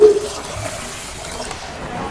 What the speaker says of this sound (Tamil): அரிசியில் தண்ணி ஊற்றிடுவோம்.